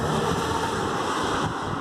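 Strong storm wind gusts in Germany roar steadily across the microphone as a dense, loud broadband rush, easing slightly near the end, with no voices.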